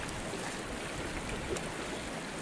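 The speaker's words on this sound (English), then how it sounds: "Well, we've met up with the river." A river beside a mountain trail on the way to King's Peak from Henry's Fork Trailhead, a steady, fairly quiet rushing of flowing water without pauses and with no one speaking.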